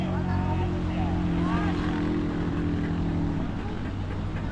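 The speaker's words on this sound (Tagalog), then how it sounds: "Lakas na makina, o." Vehicle engine laboring up a hill on a road from Davao to Quezon, Bukidnon, a steady low motor drone with rising tonal whine, heard close from inside the ride, with faint voices underneath.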